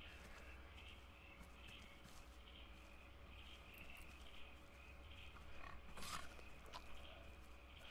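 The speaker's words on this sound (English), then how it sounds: "I can hear a pig somewhere." Distant pig oinking in the game Force of Nature, a few faint grunts rising near the end over a steady low ambient drone.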